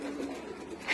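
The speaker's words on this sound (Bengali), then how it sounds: "এগুলো হচ্ছে হোস্টারিং কবুতর" Pigeons in a breeding loft give a short, soft, close coo, steady and low, with a brief brighter rustle at the very end.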